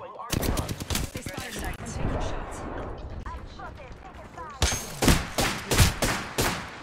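Rapid bursts of automatic gunfire from the video game Apex Legends, loud and close, in several volleys with a brief lull, while a player's voice talks over the opening stretch.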